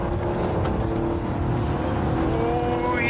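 An Alfa Romeo SZ V6 engine revs hard, a loud continuous growl that climbs in pitch toward the end.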